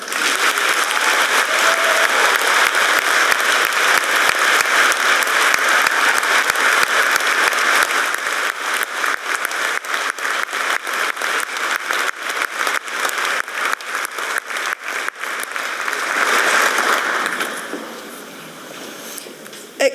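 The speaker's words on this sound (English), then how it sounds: "Please give a generous round of applause for Doctor of Professional Practice" Generous applause at a polytechnic graduation ceremony as a Doctor of Professional Practice is honoured, a broad crowd clapping steadily, thinning into scattered individual claps before swelling briefly and dying away.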